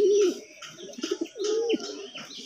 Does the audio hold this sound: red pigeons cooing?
yes